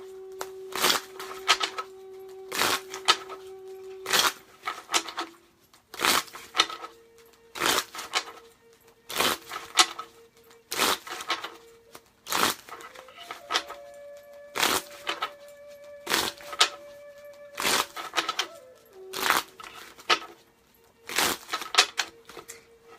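Tarot cards being shuffled by hand, a long run of crisp riffling bursts repeating in quick regular bouts with short pauses between, close and clear, with no talking over them.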